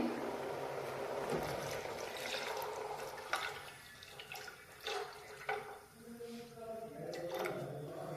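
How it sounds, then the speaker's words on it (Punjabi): Milk pours into boiling tea being made for kulhad chai, giving a steady liquid splash and trickle that stays up close and continues across the whole stretch with a few louder gushes. "ਹੁਣ ਆਪਾਂ ਇਹ ਦੁੱਧ ਪਾਵਾਂਗੇ ਜੀ"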